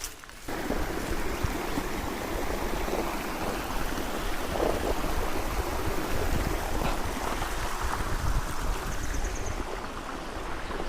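Shallow water of the Asbat River in Tanay, Rizal, low and mossy in the dry season, burbles and rushes steadily over stones, a continuous close stream sound with faint wind and no voices.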